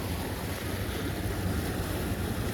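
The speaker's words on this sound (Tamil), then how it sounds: "நல்லா ஃபோர்ஸாக தண்ணி போகுதுங்க இந்த இடத்துலேருந்து." Irrigation water rushing forcefully through a farm field channel, a steady broadband roar that stays dense and constant from start to finish with no voices.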